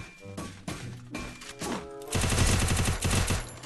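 Rapid automatic gunfire bursts in the shooter game Free Fire, a few separate shots followed by a sustained loud volley of close, punchy reports.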